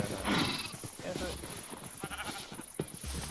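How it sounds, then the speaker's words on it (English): Sheep bleating in a Minecraft survival game, several short bleats scattered over steady background game sound, with a person talking over them. "I might actually just continue increasing the population of sheep"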